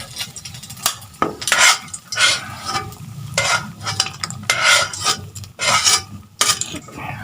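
Chicken wings for a buffalo recipe sizzle in hot oil in a pan, with scraping and stirring of a utensil against the pan over the steady frying hiss, close up and without speech.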